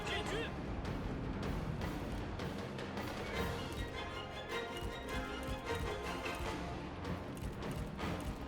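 Cavalry horses in the Liu Bei 190 Expanded mod of a strategy game gallop in a dense, continuous rumble of hoofbeats, steady and fairly loud throughout with no talking.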